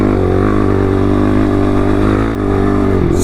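A motorcycle engine runs loud and steady while riding on a 100-degree desert race-training ride, holding a continuous close drone with a slight dip near the end and no voices.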